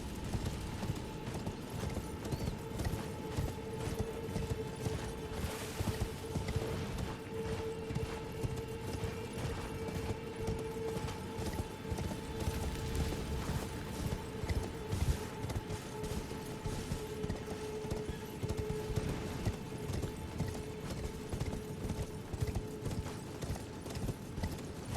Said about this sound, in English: Now you can get on your horse after coming through here.